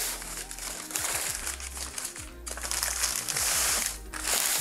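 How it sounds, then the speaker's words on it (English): Plastic vacuum-sealed packaging around a pair of huge tomahawk ribeye steaks crinkles and crunches as it is pulled open, a close, continuous run of rustling with brief pauses. "let me go ahead and unwrap these"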